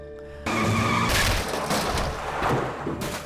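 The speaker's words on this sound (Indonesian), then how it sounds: "mobil sedan ini pun lalu penyok menabrak tembok" A speeding sedan skids and crashes into a wall: silence breaks into a loud sustained screech, then crunching impacts and rattling debris, with a final hard hit near the end.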